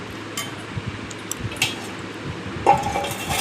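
Lid set down over a cooking pan of frying vegetables, a soft clink of metal near the end above a low sizzle and scattered small kitchen clatter.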